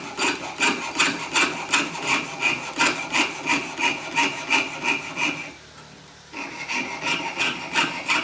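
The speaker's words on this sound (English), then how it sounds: "I'm going to saw that curve." A hand saw with a lubricated blade rasps through a metal ring band along a curve in steady back-and-forth strokes, pausing briefly before the rhythmic sawing resumes.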